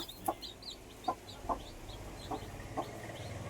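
Hen clucking in short, regular bursts among newly hatched baby chicks, whose thin high peeps chirp steadily through the background.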